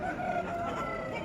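A rooster at a rooster market in Pileru crows faintly in one drawn-out call, heard from a distance over a steady background murmur.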